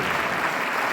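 Crowd applause at a gospel concert held in a university hall, a brief dense wash of clapping heard loud and close with no distinct voices.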